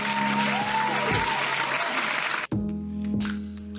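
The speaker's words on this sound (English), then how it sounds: "You also deserve a round of applause" A round of applause rolls steadily and loudly, a thick wash of many hands clapping, then cuts off abruptly to a quieter clapping tail with a faint voice over it.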